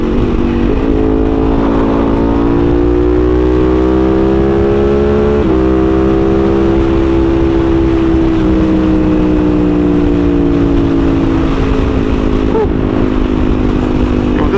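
A Ducati Panigale V4 motorcycle cruises with a loud, steady engine hum. Its pitch climbs, shifts abruptly at a gear change, then holds and slowly eases over about fifteen seconds of continuous riding.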